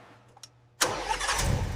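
A 1975 Toyota Corolla engine cranks and catches on the first try after a couple of faint clicks, then settles into a loud, steady idle up close.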